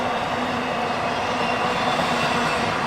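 A freight train hauling shipping containers and semi-trailers rolls past close by, a continuous loud rumble of wheels and rail noise with faint squeal, steady throughout without talk.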